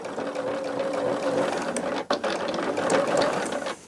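A sewing machine runs steadily, stitching through a thick seam on a small quilted charm bag, its fast mechanical chatter continuous and close, with a brief dip near the middle before resuming.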